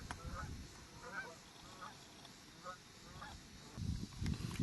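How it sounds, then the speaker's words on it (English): Geese on Shadehill Reservoir honk in scattered calls as a flock takes off over open water, the honking fairly distant under steady wind and water noise, swelling louder near the end. "a big goose party up there. Everybody, there they go, they're taking off."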